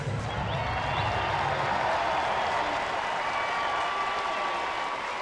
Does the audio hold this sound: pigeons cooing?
no